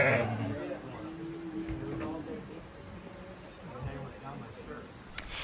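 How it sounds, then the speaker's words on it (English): Little lambs bleat on a family farm, a few short, wavering cries near the start over a muffled outdoor background. "We got to hold the little lambs that they currently have"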